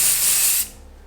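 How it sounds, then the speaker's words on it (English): An aerosol hairspray can gives one continuous hiss onto finished pinup victory-roll hair, lasting about half a second before cutting off into quiet room tone. "I then finish with just a spray of hairspray"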